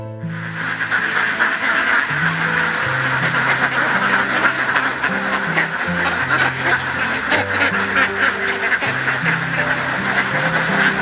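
Ducks kept on an organic rice farm quack steadily and loudly throughout, a dense overlapping chorus of many birds close by with no talk.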